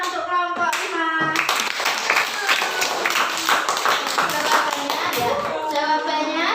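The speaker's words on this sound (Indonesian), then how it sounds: "beri tepuk tangan untuk kelompok 5" A primary school class claps and applauds a student group, brisk and continuous hand clapping from many children, with a teacher's voice heard briefly at the start and end.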